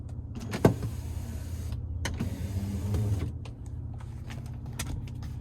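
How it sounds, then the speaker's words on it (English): The power sliding rear window of a 2026 Ford Ranger Raptor whirs as its electric motor runs steadily for several seconds inside the cab, with a brief click from the switch near the start and no talking. "That's the switch for the power sliding rear window"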